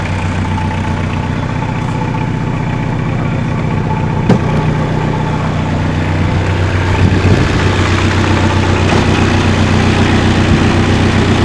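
A 1.5-liter diesel car engine idles steadily up close, a loud, even rumble with a faint clatter and a couple of small clicks.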